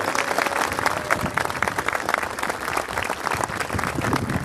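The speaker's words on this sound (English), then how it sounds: "Could you give a round of applause to Billy Hamilton and Jerry Armstrong?" An outdoor crowd at a statue unveiling for goalkeeper Pat Jennings in Newry gives sustained, dense applause for former teammates Billy Hamilton and Jerry Armstrong, many hands clapping evenly throughout.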